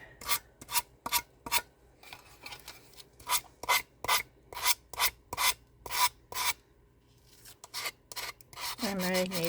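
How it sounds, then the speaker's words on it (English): Sandpaper rubs across wood for upcycled rustic crosses in quick, even, rhythmic strokes, each a close, dry rasp with brief pauses between, and no talking. "Yep, I need to get a rougher sandpaper on it."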